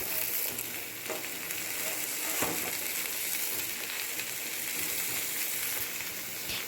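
Long strips of peeled ridge gourd fry in a pan with other vegetables, making a continuous dense sizzle and hiss that holds steady throughout, with faint stirring.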